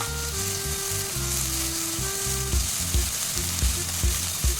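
Dried prawns dry roasting in a pan hiss steadily while a spatula scrapes and knocks in a rhythmic series of thumps, with a faint tonal hum running beneath, close and moderately loud.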